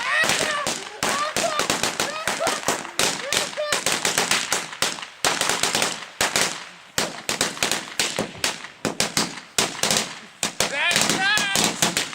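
Fireworks go off in rapid, crackling bursts like machine-gun fire, loud and close, with a steady stream of sharp pops and brief pauses over roughly twelve seconds.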